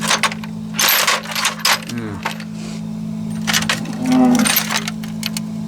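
Metal sockets from a socket set are rummaged through, giving bursts of bright clinks and jangling rattles over a steady low hum.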